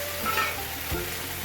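A tomato curry frying in a pan sizzles steadily and loudly, with a soft stir and a brief splash near the middle, as water is about to go in.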